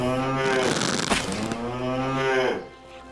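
Cattle in the Animallica farming video game low in two long, loud moos, one after another, close up with no talking.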